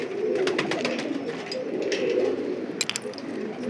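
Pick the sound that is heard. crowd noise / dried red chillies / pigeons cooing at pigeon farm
pigeons cooing at pigeon farm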